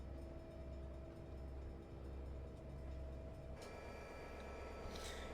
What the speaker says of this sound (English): Oh, there's a train. Wait. Oh, hello there. Wow, an AI train.